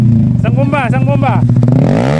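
A Yamaha R15 sport motorcycle revs hard on a dirt road at Sta. Cruz, Zambales, its engine droning loud and close with a rising whine, while a voice speaks over it.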